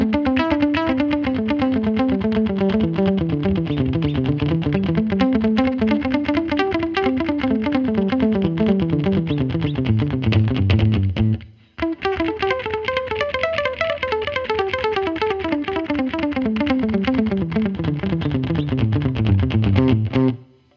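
Guitar through a delay pedal set to dotted-eighth echoes with scale at 100 and feedback at zero, each picked note followed by a single repeat at equal tone and volume, giving a steady cascading, bouncing melodic pattern that stops briefly midway.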